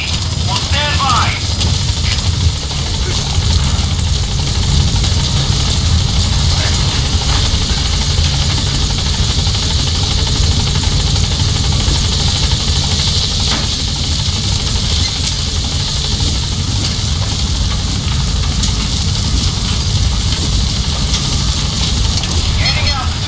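The Pequod helicopter waits at a landing zone in the Metal Gear Solid V video game, its rotor and engine roaring loud and constant, with radio voices talking over it.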